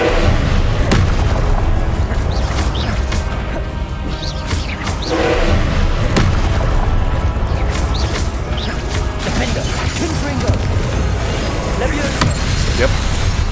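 Confringo spell blast in Hogwarts Legacy, a loud, continuous roar of booming, crashing game noise that rumbles on for the whole stretch, with a voice speaking over it.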